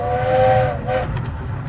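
Steam locomotive whistle on the Romney, Hythe and Dymchurch miniature railway, sounding two loud, close toots, a long one and then a shorter one, with a steady rumble of the moving train underneath.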